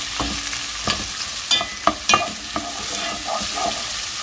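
Garlic and onion sauté in a hot pan for a Filipino-style carbonara, with a steady sizzle broken by sharp clacks of a utensil stirring and scraping, close and without talk.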